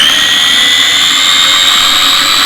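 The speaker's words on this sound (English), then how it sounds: "So the longer you blend it, the smoother it's going to be." A small food chopper whirs continuously while blending tomato and chili relish sauce, a loud, steady high-pitched motor whine held close and alone throughout.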